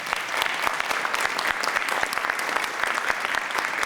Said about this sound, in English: Please give them a round of applause, Shelby.